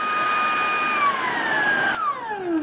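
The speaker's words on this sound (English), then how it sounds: "On top of the vacuum is the max switch. So this vacuum has two power settings" A Tineco A11 Master+ stick vacuum runs loud and close with a steady whine, then its pitch drops sharply as the motor spins down partway through.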